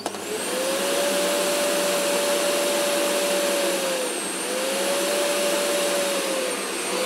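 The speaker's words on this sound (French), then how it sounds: "Quand votre aspirateur est en charge, si vous voulez le vidanger, vous appuyez ici" A loud, steady motor roar with a whining tone that dips and rises as a Samsung Bespoke stick vacuum auto-empties its dust bin, a powerful suction cycle lasting several seconds.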